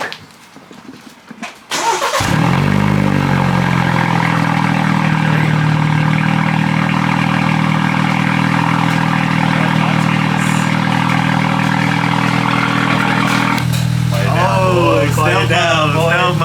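A BMW 330i engine fires up and settles into a loud, steady idle close by, with a brief rise in revs near the end; a voice is heard briefly.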